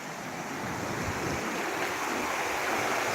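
Water from a rain-filled village lake flows around its edges, heard as a steady broadband rushing wash outdoors with some wind over the microphone.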